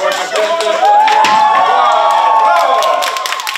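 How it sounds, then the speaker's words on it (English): A crowd cheers and applauds loudly and continuously as Ukrainian strongman Oleksii Novikov sets a new record, with shouts and voices rising over the dense clapping. "to thunderous applause from the audience sets a new record"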